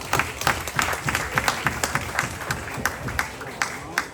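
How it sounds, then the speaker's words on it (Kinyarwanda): Applause at a high school graduation celebration, a moderate crowd clapping with distinct individual claps standing out in an uneven rhythm, steady and mid-distance, with some voices mixed in. "Amashyi"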